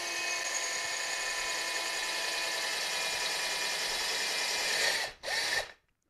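A power drill fitted with a tile bit bores small holes into a clay flowerpot, giving a steady, close whine for several seconds that dips briefly, then stops.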